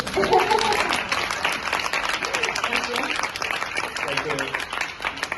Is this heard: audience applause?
yes